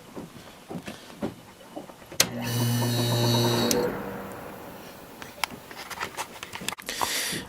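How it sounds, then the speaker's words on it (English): A running Whirlpool 6000 BTU window air conditioner with an unusual-sounding compressor: faint clicks give way to a steady droning hum with a tonal whine, which fades after about a second and a half, leaving light clatter and background noise. "Does not sound like a typical rotary. It's a very unique sounding compressor."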